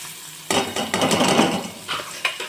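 Onions and whole spices stirred in hot oil in a pan for a dhaba-style malai paneer masala: a spoon scrapes and clatters against the metal in bursts over a light sizzle.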